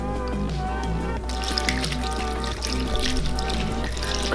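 Two cups of milk pour into a chocolate cake mix in a kitchen, a steady liquid stream over a low background hum, growing fuller partway through.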